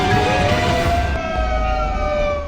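A fire truck siren wails steadily and loudly nearby, its tones sliding, with heavy traffic rumble underneath.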